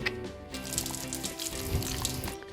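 Water runs over peeled white calçot spring onions as they are rinsed, a steady splashing wash with soft variations, close by and moderately quiet.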